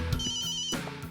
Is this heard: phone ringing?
yes